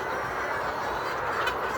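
Chickens at feeding time on a farm make a dense, steady chorus of clucking and chattering, fairly close, with no voices.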